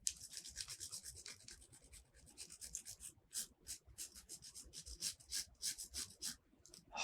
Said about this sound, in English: Chocolate shavings, my second favorite part.